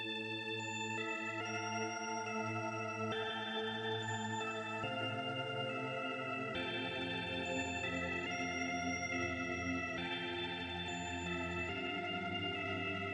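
An FL Studio loop is played through a Portal time-rotation effect with the dry signal set low, giving a dense, continuous layered tone with shimmering, shifting textures and a low sustained bed throughout, steady and close with no talking.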